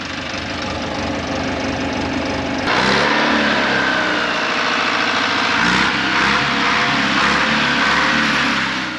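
A tractor engine running close by, a loud, rough mid-pitched chug that steps up in intensity partway through and holds steady, with no talking over it.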